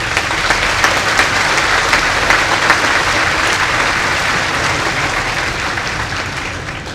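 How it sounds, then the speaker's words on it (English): Sustained applause from a large audience at the Twin Lakes High School Class of 2016 graduation ceremony in Monticello, Indiana, a steady dense clapping wash that holds for the full stretch and slowly eases toward the end, with no voices over it. "with a round of applause"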